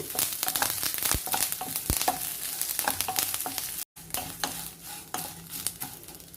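Ingredients for a curry leaf and green chili chutney fry steadily in a pan, with a constant loud sizzle and the scrape and clink of a spoon stirring, close up and with no talking.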